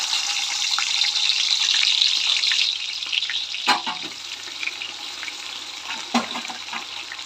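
Chopped onions dropped into about 100 ml of hot oil for mushroom biryani, a bright steady sizzle that is loudest at first, then settles into a softer crackle with a couple of sharp clinks, no talk.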